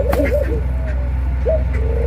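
An agitated pigeon beside its hatching eggs gives a few close, rising coos in quick succession, then pauses before one more call, all over a steady low hum.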